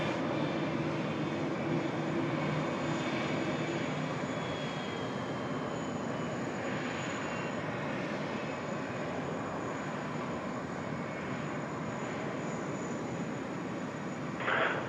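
A QantasLink Boeing 717 sits at the gate at Sydney Airport with its engines winding down, a steady broad roar and hum carrying a faint high whine that continues without a break.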